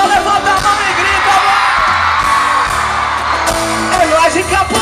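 Concert crowd at the Festa Gênesis show in Campo Grande, shouting, whooping and cheering loudly and continuously over booming low stage sound, with scattered yells throughout.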